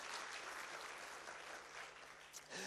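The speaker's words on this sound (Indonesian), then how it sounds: "Beri tepuk tangan yang meriah buat Raja kita." A church congregation claps for a few seconds in a broad, even burst, faint and somewhat distant, fading briefly near the end before swelling again.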